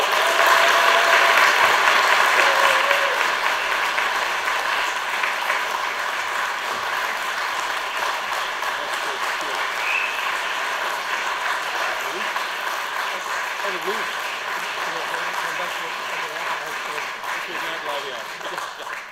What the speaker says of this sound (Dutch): Dames en heren, uw hartelijk applaus voor Stefan Hertmans